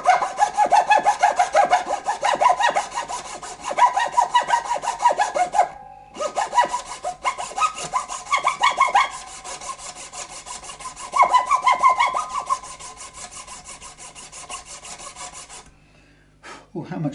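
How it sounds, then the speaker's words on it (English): A razor saw cuts the nut of a left-handed Squier Affinity Stratocaster guitar in quick, rhythmic rasping strokes, close up, with a brief pause midway and a quieter stop near the end. "I'm going to put to work my new razor saw"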